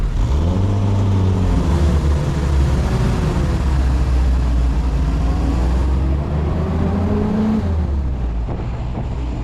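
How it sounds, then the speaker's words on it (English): A restored WW2 Jeep engine drones loud and close while driving rural New Jersey back roads, its low growl rising and falling in pitch through acceleration and gear changes, continuous with no talking. "there's not much better than a nice Jeep ride through some back roads in the rural parts of New Jersey"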